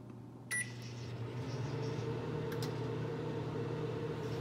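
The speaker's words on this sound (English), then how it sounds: "With that microwave, we'll be right back." A microwave oven heats frozen White Castle cheeseburgers, giving a steady low electric hum after a brief beep near the start, close and unbroken.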